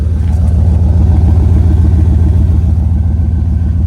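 An American car's exhaust rumbles steadily and loudly up close, a throbbing low engine drone holding an even pulse for a few seconds without any speech.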